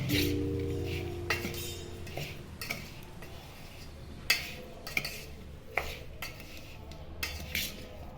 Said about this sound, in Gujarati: પહેલા બધી સામગ્રીને હું સરખી રીતે મિક્સ કરી લઈશ.